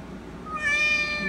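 A cat meows once in a short, clear, fairly close call, starting partway in and holding a wavering tone to the end, with a quiet household room behind it.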